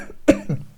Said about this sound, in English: I had a bad cough today.